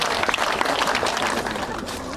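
Guests at a house opening ceremony applaud to welcome a guest, a steady round of clapping from a gathered crowd that is close and fairly loud and tapers slightly toward the end.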